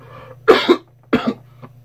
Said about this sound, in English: I'm going to cough one more time.